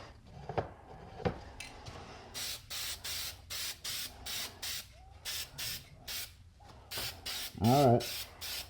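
Short bursts of an aerosol spray can coating a model car body and bed laid together, about a dozen hissing passes in an even rhythm separated by brief pauses, close and fairly quiet, with a faint tonal squeak near the end.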